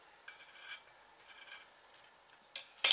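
Scissors cutting out a traced fabric circle for covering a button, a few soft, close rasping snips separated by quiet pauses, with a sharper noise at the very end.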